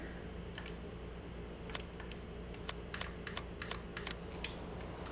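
Computer keyboard typing while playing Farming Simulator 19 on the Ravenport map: irregular bursts of light key clicks, some quick runs and single taps, fairly close over a steady low hum.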